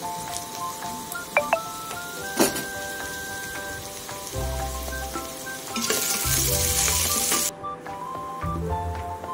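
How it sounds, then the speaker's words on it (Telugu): Ginger garlic paste frying in an electric cooker for mutton curry, a steady close sizzle and crackle with scattered pops, clattering utensil knocks and a brief louder burst of hissing partway through. "అల్లం వెల్లుల్లి పేస్ట్ కూడా బాగా పచ్చివాసన పోయే వరకు వేయించుకుందాం"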